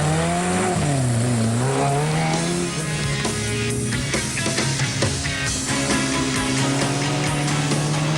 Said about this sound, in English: First away in the 80-kilometre Settler Sprint were the Class 5 vehicles with Bill Angus and Derek Weatherall